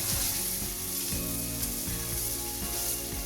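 Mixed winter vegetables fry almost dry in a pan, a soft, steady sizzle with faint crackle and a low hum beneath, no voices.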